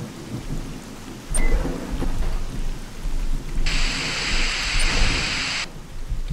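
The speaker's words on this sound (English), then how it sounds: "especially when it's raining" Steady rain hisses throughout in the video game S.T.A.L.K.E.R.: Call of Pripyat, broken by a sharp crack of thunder and a rumbling roll, with a bright, static-like layer of rain swelling midway.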